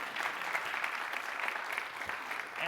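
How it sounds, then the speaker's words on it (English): An audience claps in a steady, even round of applause, a dense patter of many hands with no voices on top. "Oh, a round of applause."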